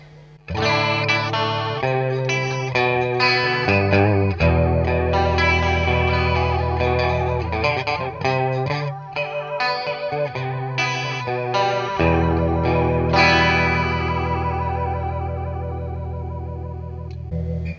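An electric guitar plays a sustained melodic line through a Joyo Ironman JF-327 Raptor flanger pedal, whose sweeping, swirling modulation gives the notes a whooshing, slightly distorted shimmer.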